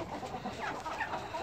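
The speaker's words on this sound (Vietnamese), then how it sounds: "Đây là trại gà của bên trang trại bên em, gà rừng." Jungle fowl cluck softly on a chicken farm in Khanh Hoa, a cluster of low, scattered clucks from several birds at moderate distance over a faint background hum.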